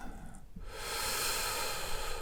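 A single long, steady inhalation drawn in through the mouth, a soft airy rush that swells and holds for a couple of seconds, close by.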